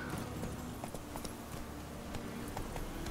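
Geralt's horse Roach in The Witcher 3 trots along with steady clip-clop hoofbeats, close and continuous, set against a busy game soundscape, with no talking over it.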